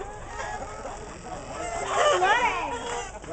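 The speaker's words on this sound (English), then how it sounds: "Crazy chickens." Several chickens cluck and squawk close by, a dense busy flock chatter that swells into louder, wavering calls near the middle, with no clear voice over it.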